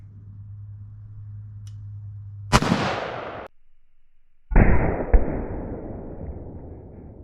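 Two loud rifle shots from IMI Systems 5.56mm rounds, 55 and 193 grain, fired on an outdoor range, each a sharp close crack followed by a long rolling echo, the second shot trailed by a quick extra pop.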